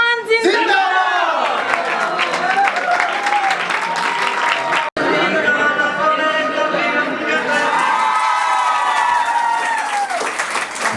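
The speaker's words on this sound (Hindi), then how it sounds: "आज आपको पूरा मौका दिया जा रहा है भरपूर शोर और तालियों का" Schoolchildren at a 14 August Independence Day celebration clap and cheer loudly and continuously, a dense close wall of applause with shouts and whistles, cut by one brief instant of silence midway.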